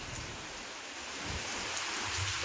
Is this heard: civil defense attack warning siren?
no